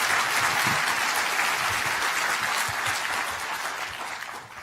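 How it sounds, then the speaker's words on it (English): An audience at a conference opening session applauds steadily for several seconds, a dense wash of clapping that fades slightly toward the end. "So a round of applause for Rafik and his team"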